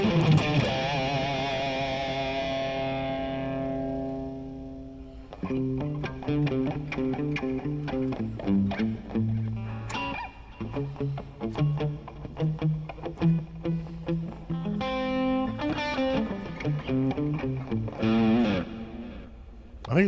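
Distorted electric guitar played through a Brit 87 amp profile, starting with a long sustained chord and then moving into a run of riffs and single notes. It sounds loud and close, with no talking over it.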